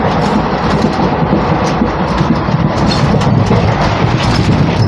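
Passenger train ride heard from a seat near the onboard bathroom: a loud, steady rumble of wheels and carriage with rattling clatter and rhythmic clicks running throughout, no voices.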